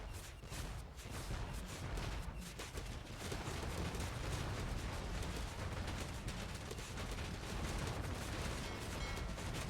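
Elite cannon galleons fire during a real-time strategy naval battle, making a dense, unbroken barrage of booming cannon shots and impacts. The volleys stay loud and constant throughout, with no clear talk.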